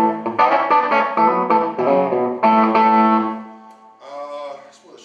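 Electric guitar played through a 1965 Fender Super Reverb reissue amp at a guitar show clinic, a run of sustained, effected chords and notes ringing loud and close, then a softer, shimmering phrase near the end, with no talking.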